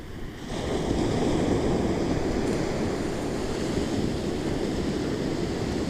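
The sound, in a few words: ocean waves rolling in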